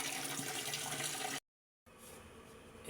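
Okra and eggplant being rinsed under a running kitchen tap, a steady loud splash of water into the sink, broken by a short silent gap before the flow resumes.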